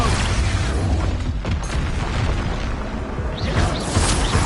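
Expulso explosion spell cast in the video game Hogwarts Legacy, heard as a loud, sustained booming blast with dense crackling debris that briefly dips and then surges again with sharp bursts near the end.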